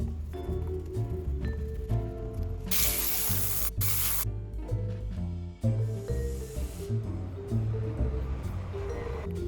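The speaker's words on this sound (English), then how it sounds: "blowing out the excess with compressed air" Short hissing blasts of compressed air clear leftover cleaner from a 1989 Buick Reatta dashboard, two sharp bursts over a steady low background hum with light clinks.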